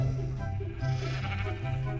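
Blocky Minecraft sheep bleat in short wavering cries, one after another, fairly close, with no talk over them.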